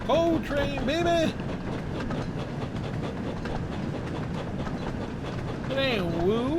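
A coal train from a Thomas & Friends story runs along the tracks with a steady rumbling clatter throughout, while a voice mimics a train whistle at the start and again near the end.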